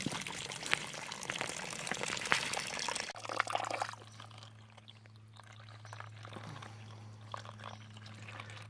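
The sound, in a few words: spring water trickling into a container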